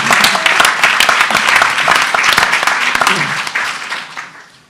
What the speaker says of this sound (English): applause is appropriate